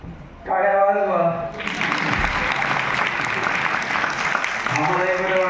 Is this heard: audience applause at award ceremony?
yes